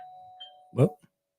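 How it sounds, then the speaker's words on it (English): A doorbell chimes a two-tone ding-dong, loud and close, with a brief tone just before it and quiet afterward. "that's the doorbell."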